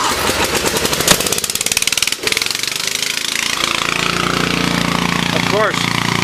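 An engine cranks and catches on a Terra Jet amphibious vehicle being started in gear with a troublesome clutch, settling into a loud, steady, rattling run with a brief dip in between.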